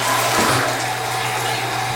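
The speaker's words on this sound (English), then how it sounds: "Come on now, let me flush it." A toilet flushing in a mansion bathroom, a loud, close rush of water swirling and draining steadily throughout.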